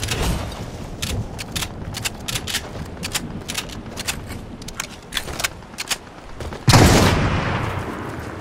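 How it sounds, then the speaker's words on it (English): Gunfire in a battle royale game, a string of sharp, distant-sounding shots cracking in irregular bursts, then a louder, closer blast near the end. "There's some shooting over there."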